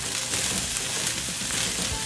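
Green beans and carrots fry in a pan with a steady, close hiss of sizzling oil and faint crackles, continuous throughout with no speech.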